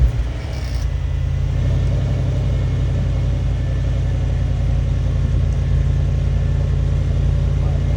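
Audi S6/S7/A8 with the 4.0T V8 and stock exhaust idling, a steady low, smooth rumble that holds evenly with little change in pitch.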